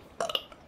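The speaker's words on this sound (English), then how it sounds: "Sorry, I burped." A single short, throaty burp rises abruptly and fades within a fraction of a second, close and clear against a quiet background, during a Plants vs Zombies Garden Warfare 2 gaming session.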